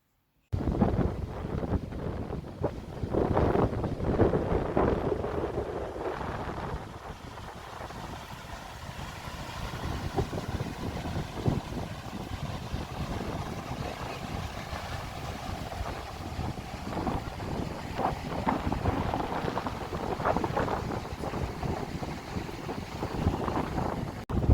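Crisp breeze at Bondi Beach, New South Wales, buffeting the microphone in a steady loud rumble with surf washing in the background, continuous for the whole stretch.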